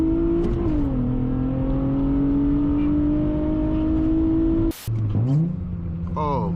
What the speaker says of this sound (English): Oh my gosh, that exhaust noise.